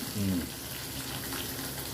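Chopped onion and curry leaves frying in oil for Madurai-style kara chutney, a soft, steady sizzle with a brief stirring scrape near the start, fairly quiet and close.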